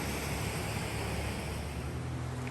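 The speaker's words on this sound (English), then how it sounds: "That's where the waterfalls fall." Steady, dense roar of falling water at Latourell Falls, a broad continuous rush without breaks, loud and close with no voices.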